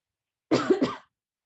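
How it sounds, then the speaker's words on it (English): A single short cough into a mask, a quick double-burst close to the microphone, with silence before and after. "Final cough into the mask."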